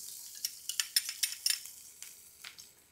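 Ginger pieces dropped into red chili oil in a pan, crackling in a run of quiet, sharp sizzling pops and light stirring scrapes for a restaurant-style crispy corn snack.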